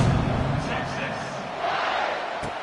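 A football stadium crowd murmurs and buzzes before a kickoff, a broad distant roar of many voices that swells slightly midway, with a commentator talking over it.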